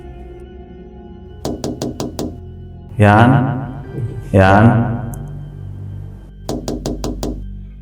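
Knocking on a door for a horror story: a rapid series of about five sharp knocks, a stretch of talking, then another quick run of five knocks, close and clear.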